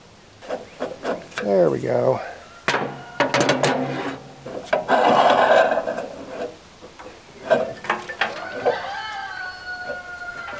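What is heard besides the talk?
cleaning along the length of an auger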